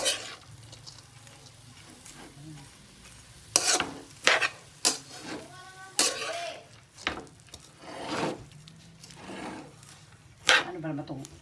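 Bean sprouts get stirred in a frying pan, with intermittent scraping strokes of a spatula and a faint sizzle between them, while someone talks now and then over the cooking.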